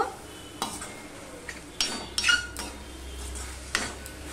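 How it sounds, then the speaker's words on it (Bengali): Turmeric stirred into spinach with sesame cooking in a pan, with a spoon scraping and clinking against the metal in irregular strokes over a faint sizzle. Close and fairly quiet with no talk. "একটু হলুদ দিয়ে দিলাম, দিয়ে সম্পূর্ণটা আমি মিশিয়ে নেব"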